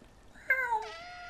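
A single short cat meow from the video game Stray, clear and close, rising then falling in pitch, over quiet background.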